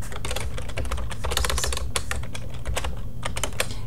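Rapid typing on a computer keyboard, a dense run of close, crisp key clicks with uneven rhythm continuing through the whole short stretch, with no voices.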